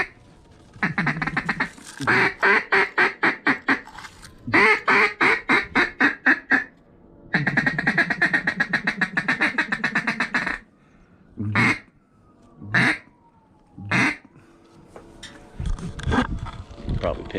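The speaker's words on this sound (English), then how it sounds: "it does not take a lot of talent to blow a duck call" An R&T Daisy Cutter Extreme duck call blown during a solo duck hunt in flooded corn, loud close bursts of rapid rhythmic quacks in several series, then a few short single quacks, with a voice talking near the end.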